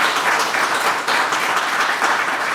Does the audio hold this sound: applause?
yes